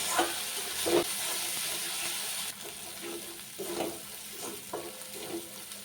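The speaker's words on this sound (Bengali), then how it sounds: "মশলাটা কিন্তু প্রায় কষানো হয়ে এসেছে" A thick spice paste for pomfret fish curry sizzles in a wok, with repeated scraping strokes of a spoon stirring it at an unhurried pace.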